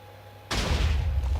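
A sudden booming TNT blast in Minecraft erupts after a quiet moment, then a deep rumbling roar rolls on.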